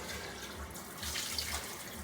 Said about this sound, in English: Put a little water in it first just to get some of it out.